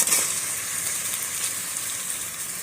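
Meat tossed into hot oil with spices sizzles and crackles steadily, a dense bright frying hiss filling the whole stretch at close range with no voices.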